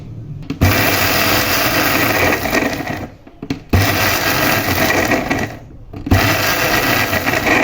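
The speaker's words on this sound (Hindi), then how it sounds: "अभी इसको निकाल के पीस लेती हूँ" An electric grinder whirring loudly through dry-roasted green chili pickle spices, three long continuous bursts separated by brief pauses.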